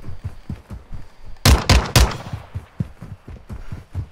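Sniper-variant Finn SMG fires in Modern Warfare 2: three loud, sharp shots in quick succession, set against a steady run of soft low thumps like footsteps before and after.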